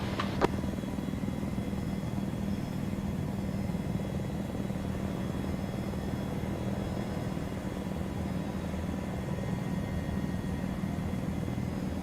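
Steady droning rumble of an aircraft engine flying in a combined-arms military video game, a constant loud hum with rotor-like pulsing that holds unchanged throughout, a single sharp click near the start.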